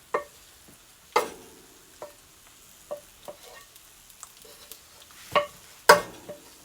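Onions and peppers stirred in a pan while cooking turkey drumsticks, with a quiet steady sizzle broken by several sharp spoon-against-pan clatters at irregular intervals, close by.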